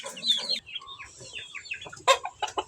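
Backyard chickens, hens and chicks, cluck and chirp in quick irregular bursts at close range, with soft squawks scattered throughout.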